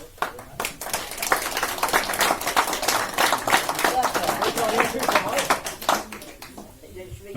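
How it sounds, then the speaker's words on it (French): An audience at a hall inauguration claps in sustained applause, dense overlapping hand claps continuing for several seconds before thinning out at the end. "Pas trop d'applaudissements"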